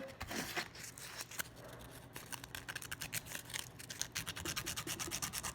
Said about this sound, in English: I'll sand it smooth. Right along the edge on both sides.